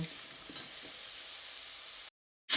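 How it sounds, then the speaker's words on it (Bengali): Potatoes fry with spice paste in a pan, giving a steady, fairly quiet sizzle with faint stirring, close by, before the sound cuts to brief silence near the end. "আলুটাকে প্রায় দু তিন মিনিট মতো মশলার সঙ্গে কষিয়ে নেব"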